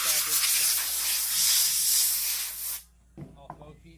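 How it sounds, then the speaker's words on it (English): Compressed air blasts dust and grime off carbon parts in a loud, close, steady hiss that cuts off abruptly, followed by someone speaking briefly. "we'll blow all the dust off it, get all the whatever else is in there, grime, dirt, get all the dust off it"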